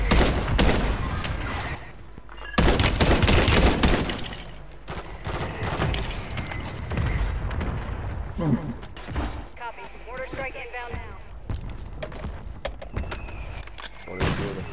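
Gunfire from the Call of Duty video game crackles in sustained bursts and scattered shots amid battle noise, with voices talking over the action.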